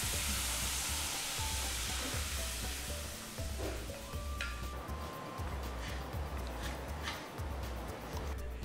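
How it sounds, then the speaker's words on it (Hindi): Steady, loud sizzling and crackling as lentils are added to a hot asafoetida and cumin tempering, continuous throughout with faint stirring clinks. "अब इसमें ये दाल डाल लेते हैं"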